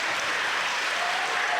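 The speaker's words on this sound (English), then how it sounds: "students, let's clap and" Students at an elementary school welcome assembly clap together for new students, a dense, even burst of applause filling the room with no talking.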